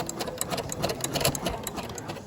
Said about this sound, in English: Ruby now using sewing machine